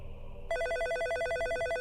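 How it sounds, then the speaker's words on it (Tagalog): A telephone rings in a steady electronic trill that starts half a second in, preceded by quiet room tone, and continues alone and clearly to the end. "May tumatawag sa telepono."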